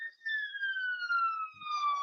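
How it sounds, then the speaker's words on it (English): A fire engine siren passes along a long, nearly straight road, its steady descending wail sweeping past for two seconds at a moderate distance, with no talk over it. "Oh, it's a second fire engine."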